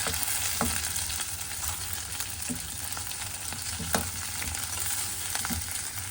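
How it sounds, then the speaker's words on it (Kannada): Onion, garlic, ginger and green chilli fry in hot oil with a loud, continuous sizzle, broken now and then by sharp scraping stirs of a spoon against the pan, close to the microphone and without talk. "ಬೆಳ್ಳುಳ್ಳಿ, ಶುಂಠಿ ಎಲ್ಲ ಗೋಲ್ಡನ್ ಬ್ರೌನ್ ಆಗೋವರೆಗೂ ಸ್ವಲ್ಪ ಹುರ್ಕೊಂಡು"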